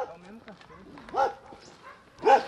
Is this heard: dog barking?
yes